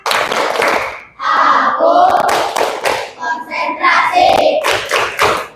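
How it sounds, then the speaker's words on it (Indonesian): A group claps together in a quick patterned concentration-clap rhythm, loud and close, with voices chanting along between the claps. "Coba tepuk konsentrasi dulu. Tepuk konsentrasi."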